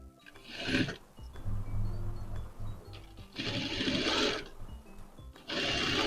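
A sewing machine stitches a senator-style garment pocket in several bursts of fast, buzzing whir, separated by quieter pauses with softer handling sounds.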